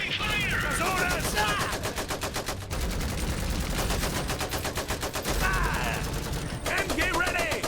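Rapid machine-gun and rifle fire rattles continuously in the alternate-history WW1 strategy game Iron Harvest, dense overlapping bursts with occasional unit voice callouts mixed in.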